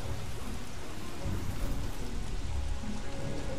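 Dense, steady patter of hail falling in the video game Don't Starve: Shipwrecked, a continuous broadband rattling hiss at low level with no pauses.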